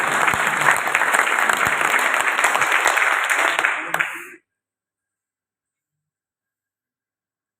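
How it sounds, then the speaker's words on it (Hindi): Audience clapping at a company seminar, dense close applause for about four seconds that stops sharply, followed by silence. "इसके लिए ताली हो जाए"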